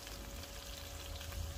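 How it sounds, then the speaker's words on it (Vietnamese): Tofu deep-frying in a pan of oil gives a steady, dense crackling sizzle, loud and close, with no talking over it. "Mình chiên ngập dầu thì đậu hũ nó giòn, nó ngon hơn nha."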